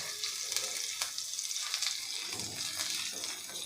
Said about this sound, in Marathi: आता हे आपल्याला 2 मिनिटे परतून घ्यायचं आहे